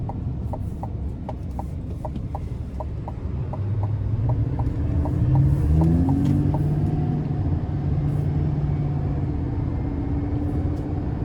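A 2025 GMC Sierra 2500HD AT4 with a turbocharged V8 drives along, its engine a steady, deep rumble that swells midway over a faint regular ticking, heard from inside the cab.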